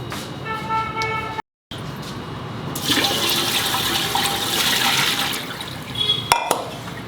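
Water pours from a mug into a steaming vessel for sannas, a brief splash early on, then a louder sustained gush of filling water after a short gap, with a final splash near the end.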